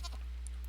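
A single short sheep bleat in Stardew Valley on a winter farm, faint and brief over a steady low background hum.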